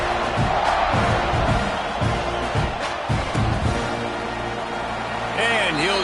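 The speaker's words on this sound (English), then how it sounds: "You think this crowd's going to get loud when their defense comes on the field?" A college football crowd at a Texas A&M stadium roars steadily as the defense takes the field, a broad wash of cheering beneath a commentator's voice, with thuds and a brief whistle-like sweep near the end.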